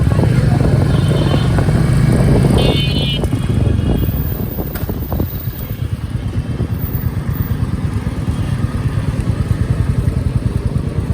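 Heavy Royal Enfield motorcycle being ridden on a road, its engine a steady loud rumble throughout, with a faint mechanical whine and some wind noise, and a brief voice early on.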